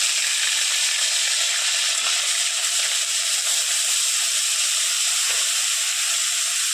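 Onion paste sizzles steadily in hot oil for a sweet-and-sour elephant foot yam chutney, a dense, even hiss with no talking.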